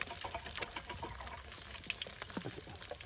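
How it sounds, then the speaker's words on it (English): Water from a 600 ml bottle pours into a camping kettle from a Trangia 25 stove set, a quiet, close trickle and gurgle with small irregular splashes. "And I'll put the kettle full of water."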